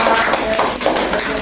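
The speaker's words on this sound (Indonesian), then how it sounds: "Oke, beri tepuk tangan untuk" A classroom of primary-school pupils claps loudly and close, a fast, dense patter of small hands sustained without a break, with a few irregular sharper slaps standing out.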